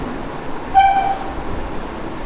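A train horn gives one short toot partway through a continuous rumbling railway noise; the horn is moderate in level and no one speaks.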